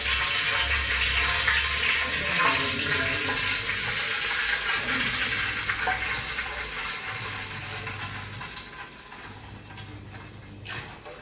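Water is poured into a pot of hot oil while making Kollam-style chicken dum biryani, a loud rushing gush at first that gradually settles into quieter bubbling and sizzling.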